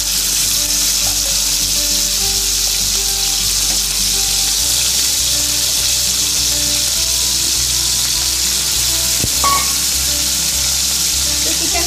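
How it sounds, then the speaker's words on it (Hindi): Pieces of Kolkata restaurant-style chicken chaap shallow fry in oil in a pan, a loud continuous sizzle with crackling bursts that runs unbroken from start to finish. "बस थोड़ा हल्का सा शैलो फ्राई करना है"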